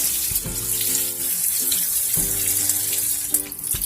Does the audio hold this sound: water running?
yes